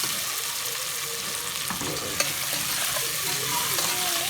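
Potatoes frying in a pan, a loud continuous sizzle with faint scraping of stirring and a few light utensil taps underneath.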